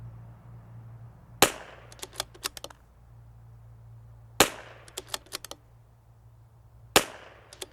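Three sharp, close CZ 457 .22LR rifle shots at spaced intervals, each followed by a quick patter of small clicks, over a faint steady hum.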